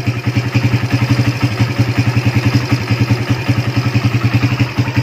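A 2005 motorcycle engine idles steadily up close, a loud even rhythmic chugging with a light mechanical clatter, alone with no voices.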